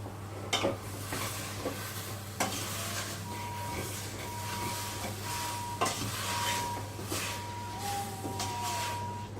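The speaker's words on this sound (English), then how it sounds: "pop it on the heat and just kind of reduce it down in a kind of heavy bottom pan if you can" Bramble and apple mixture reducing in a heavy copper-based pan, a steady low bubbling simmer with soft sizzle and occasional spoon scrapes and clinks, close and alone.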